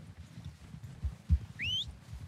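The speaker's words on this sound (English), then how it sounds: "They're coming down with the horses." Horses approach in the video game Red Dead Redemption 2, with soft hoof thuds and a rustling, uneven clatter, topped by a brief rising whistle, no speech.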